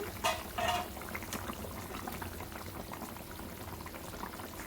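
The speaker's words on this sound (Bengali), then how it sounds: "ঝোলটা ফুটে গেছে" Fish curry broth with winter vegetables bubbles in a pot at a rolling boil, a soft continuous burble of popping bubbles with a couple of brief louder splashes near the start and no talk.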